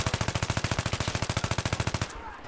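Automatic weapon fire in the shooter game Battlefield 3: a rapid, evenly spaced burst of about thirty loud, close shots that stops abruptly, leaving a brief quiet tail.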